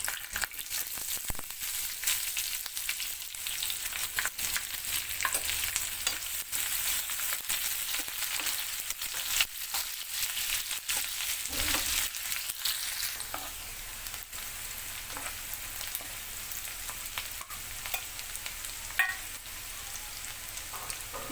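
Onion, garlic and curry leaves frying in a kadhai until reddish, a bright continuous sizzle with intermittent scraping stirs, close up and steady with no voices.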